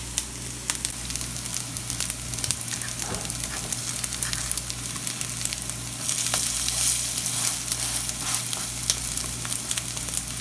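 Steady, dense sizzling of rice and lentil cutlets frying in a pan, continuous and fairly loud throughout, with a low hum underneath and no talking.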